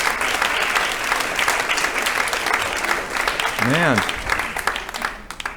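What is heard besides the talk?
audience applauding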